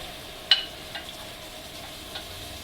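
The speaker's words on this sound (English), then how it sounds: "And now we're going to let this fry off for a few minutes." Spice paste for Goan pork vindaloo frying in a pot, a soft steady sizzle with a sharp clink near the start and a few light taps from stirring, close and fairly quiet.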